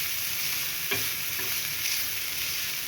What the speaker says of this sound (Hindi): इसको थोड़ा 1 से 2 मिनट सौते करेंगे ढककर